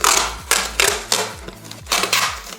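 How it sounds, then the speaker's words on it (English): Tape pulled and wrapped around a plastic bottle in short bursts, each a loud, close ripping screech, about six in quick succession. "All I'm gonna do is wrap some tape around it"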